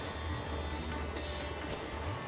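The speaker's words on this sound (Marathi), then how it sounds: "पावसाने बघा एकदम धुमाकूळ केला आहे पाऊस जोरात आहे" Heavy rain pours steadily during a Ganesh festival in rural Konkan. It makes a constant dense hiss with a low rumble underneath, and no voices are heard.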